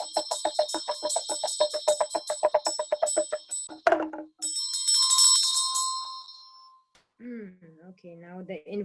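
A ritual hand bell rung rapidly for an invocation, bright repeated ringing strokes followed by long sustained chimes, then a voice speaking briefly at the end.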